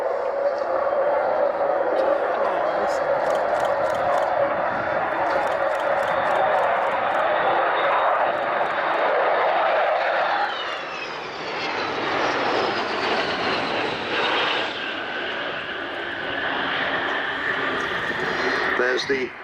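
Avro Vulcan bomber's jet engines howling loudly during a flypast at its first display after restoration, a sustained roaring whine that shifts in pitch as the delta-wing jet passes, with a person talking over it.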